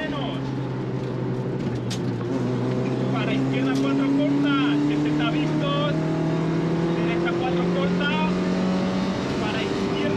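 A rally car charges flat out along a Talavera rallysprint stage, its engine note loud and close, climbing and falling through gear changes as it brakes and accelerates between corners.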